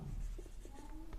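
Quick scratchy strokes of notes being written on a board in a 12th-class physics lesson on capacitors, a few short bursts close by with no talk over them.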